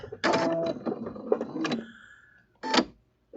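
A sewing machine stitches a seam on a patriotic star quilt block, running in two short whirring bursts separated by a pause, close and moderately loud.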